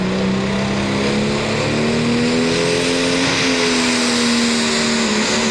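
High-horsepower pulling tractors, 2,200 to 2,400 horsepower with 640 cubic inch engines, roar at a Wisconsin tractor pull, a loud sustained engine drone whose pitch slowly climbs and then drops near the end, with no talk over it.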